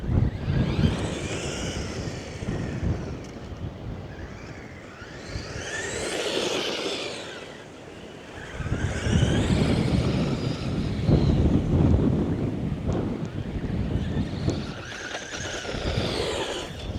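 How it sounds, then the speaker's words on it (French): Strong wind buffeting and roaring around a Traxxas mini Maxx RC truck outdoors, rising and falling in gusts over several seconds, with whistling tones carried above the rumble. "le vent, il est horrible"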